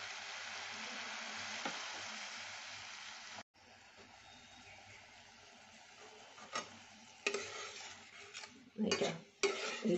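Spice paste for a hilsa and eggplant curry is stirred and fried in a pan, with a soft, steady sizzle followed by sharper spoon scrapes against the pan near the end.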